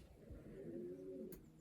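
A blue yearling racing pigeon cock gives a soft, continuous low coo while being held in the hand, close and steady for over a second, with a brief faint click near the end.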